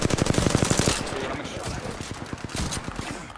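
Gunfire in the video game Apex Legends: a rapid automatic burst of evenly spaced shots, then a looser string of cracks, loud and close, with a voice talking over part of it.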